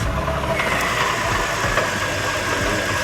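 A BMW E46 engine with a failed water pump runs steadily at idle, with a continuous low rumble and faint knocking texture that stays close and even throughout.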